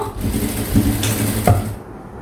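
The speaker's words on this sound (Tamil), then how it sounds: "இப்போ இதை நான் தையல் போடுறேன்." A sewing machine stitches blouse fabric with a steady mechanical whirr and a few sharper clicks, close and moderately loud, running alone without talk before stopping near the end.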